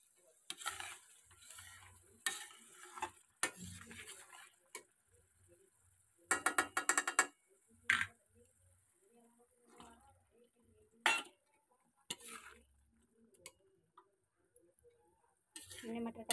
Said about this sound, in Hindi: हमने मटर डाल दी है